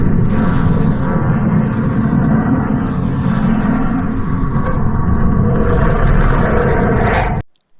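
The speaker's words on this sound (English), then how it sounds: "It's a sound of sun like burning something and some volcanoes like this." Purported space recording of the Sun: a loud, steady roaring rumble with a broad hiss, like burning or volcanic roar, continuous and unbroken before cutting off abruptly near the end.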